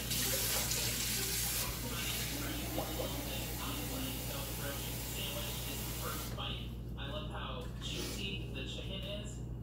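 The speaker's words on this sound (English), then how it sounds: "I like to use hot water." Hot water runs steadily from a kitchen tap as a continuous hiss while puffy taco dough is prepared, with a person talking over it throughout.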